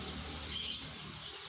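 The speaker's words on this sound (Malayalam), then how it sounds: "വെറൈറ്റി പ്രാവുകൾ കുറേ ഐറ്റംസ് ഉണ്ട് കേട്ടോ നല്ല വെറൈറ്റി പ്രാവ് ഐറ്റംസ്" Pigeons of several varieties in a pet shop, a brief chirp or call rising out of a steady, faint background hum, with no talking.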